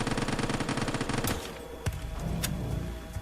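Rapid automatic gunfire in the video game Quarantine Zone, a dense rattling burst of shots that stops abruptly, followed by a few single sharp reports over quieter background.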